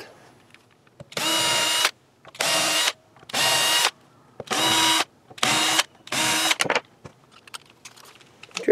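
A power drill driving screws into a guitar assembled from cheap online parts runs in six loud, close bursts of about a second each, separated by short pauses with faint handling noises.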